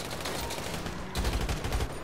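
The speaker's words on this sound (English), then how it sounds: "Shots fired." Bursts of gunfire in GTA 5 roleplay, several quick shots that thicken into a louder volley in the second half, over a steady background wash.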